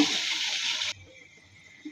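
Hot water pours into a duck curry in a brief, bright rushing stream for under a second, then stops, leaving a quiet simmer.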